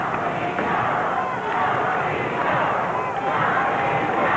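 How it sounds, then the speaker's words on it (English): A 1982 Memphis pro wrestling arena crowd roars steadily, a dense wash of cheering and shouting that never lets up, with a commentator's voice mixed in. "Crowd getting in behind Steve Kern."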